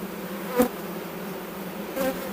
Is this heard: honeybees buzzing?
yes